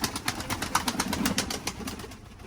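Pigeons coo softly and steadily at close range, with rustling and faint pulsing sounds behind them, and no talking.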